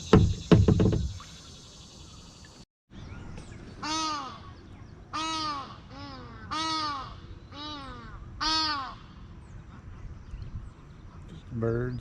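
Crow-like caws from birds on an island at The Falls in Pineville, Missouri, about six harsh calls spaced through the middle of the clip, moderately near, after a brief burst of louder noise at the start.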